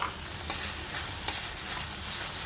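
Amaranth leaves go into a pan of softened cooking tomatoes, with a continuous close sizzle and several sharp stirring scrapes. No talking is heard.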